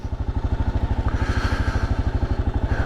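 A 2024 Kawasaki KLR 650 single-cylinder motorcycle chugs close by with a steady, rapid thumping pulse, its engine note rising slightly as it pulls away.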